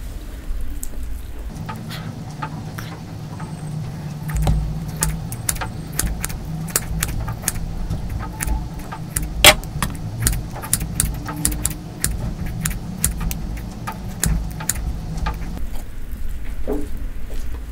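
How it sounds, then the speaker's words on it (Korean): Heavy rain pours outside during a thunderstorm, a steady broadband patter with a low rumble beneath it. Scattered sharp clicks and taps from a meal of beef steak and rose shrimp pasta sound over it, and there is no talk. "밖에 비가 너무 많이 내리고 있어서 소음이 되게 많이 들려요."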